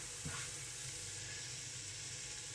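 Onions dropped into melted butter in a pan for egg fried rice: a steady, faint sizzle and hiss that continues without pause.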